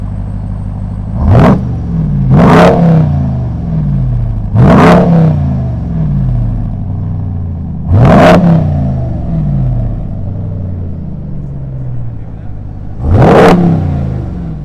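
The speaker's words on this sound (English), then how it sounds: "show y'all the throttle response of this spectacular naturally aspirated V6 that runs on 93 octane, pushing 290 horsepower" A naturally aspirated 290 hp V6 in a 2019 Acura TLX A-Spec is revved repeatedly at idle, giving five sharp throttle blips spaced a second or more apart. Each blip rises and falls over a steady low engine hum.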